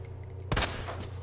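A single loud gunshot rings out in the Resident Evil 2 Remake, breaking a quiet low hum, then fading into a short echoing tail.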